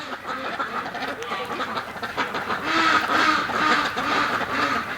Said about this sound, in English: This bunch of females this year is crazy quackers.